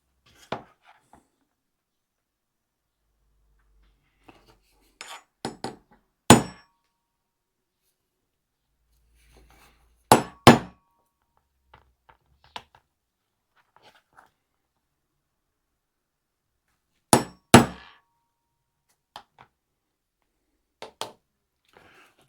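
Leather punches are hammered through gasket paper for a classic car carburettor, giving a few sharp, isolated thumps in pairs separated by long quiet gaps.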